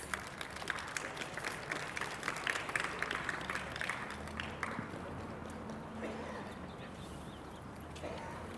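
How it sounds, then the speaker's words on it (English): Scattered audience applause at a live-streamed event, uneven and thinning as it goes, with individual claps standing out and a voice briefly audible underneath. "give him a round of applause"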